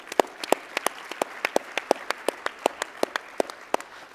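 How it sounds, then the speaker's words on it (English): Sparse, evenly spaced claps ring out one after another at a business leader awards evening, a thin round of applause from a small group rather than a full crowd. "Can we just have a round of applause to them?"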